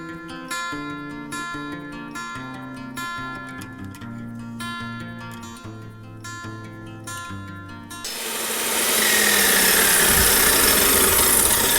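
Music plays at first, then a rock saw cutting rock in winter in Rexburg cuts in at higher speed with a loud, steady grinding whir that continues to the end.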